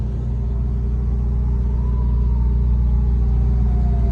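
An electric Ferrari rolls in a motorcade, giving a steady loud low rumble of road and drive noise with a faint rising whine, close and continuous throughout with no voices.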